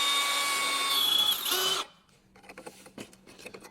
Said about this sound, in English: I'm gonna have to cut it off and then drill it out